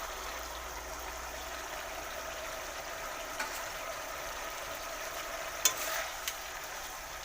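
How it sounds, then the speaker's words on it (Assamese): Fried eggs are added to a tomato curry in a pan and sizzle with a steady, soft hiss throughout. A few sharp clicks of a utensil sound near the end. "এতিয়া মই ইয়াত ফ্ৰাই কৰি থোৱা কণীখিনি দি দিম।"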